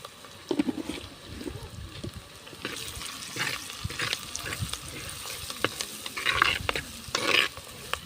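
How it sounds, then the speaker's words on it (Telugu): Tomatoes frying in a pan for a tomato chutney, with scattered sizzling, stirring scrapes and clatter at moderate loudness, no talking. "టమాటా వేస్తున్నాను."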